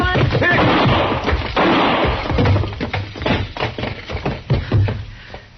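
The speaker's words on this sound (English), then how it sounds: "Don't shoot again, Chester." A gunshot sound effect in an old Gunsmoke radio western drama, a loud percussive crack followed by thuds and tense background sounds on a limited-bandwidth recording.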